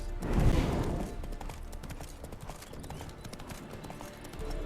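Horse hooves clip-clop in The Witcher 3, a brisk close trot that starts with a loud rush and then settles into steady hoofbeats.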